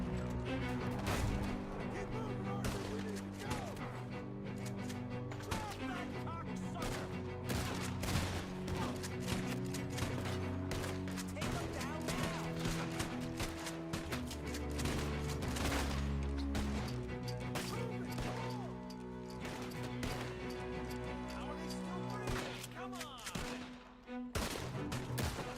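Dense, continuous gunfire from the video game Red Dead Redemption 2, with rapid shots and bursts stacking over a steady bed of game music, loud and near throughout with no clear pauses.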